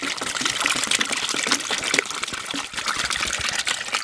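Cold water poured into a bucket, a continuous splashing gush with bright trickling, fairly loud and close, alone without voices.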